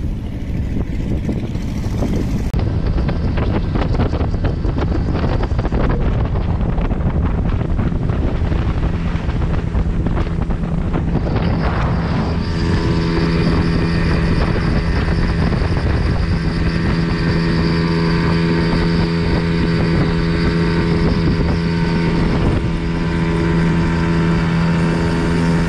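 A boat motoring across water in early spring, its engine a steady loud drone mixed with heavy wind buffeting the microphone, continuous and close with no talking.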